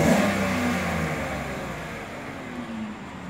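A 2014 GMC Sierra SLT pickup engine idling right after start-up, a close, steady low rumble that eases slightly with a brief small rise near the end.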